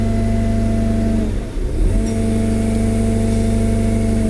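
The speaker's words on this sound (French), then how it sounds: "le régime moteur s'accélère tout seul" Diesel engine of a Merlo TF35.7 telehandler runs loudly up close with a steady tonal hum, dips briefly and then revs back up on its own to a sustained higher drone, with no talking.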